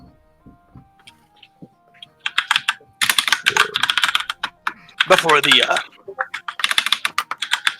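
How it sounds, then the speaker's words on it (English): Quick bursts of clicking computer keyboard typing, loud and close as if from an open microphone during an online tabletop role-playing session, with someone speaking over parts of it. "Or who's ever typing."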